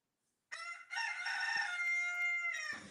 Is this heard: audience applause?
no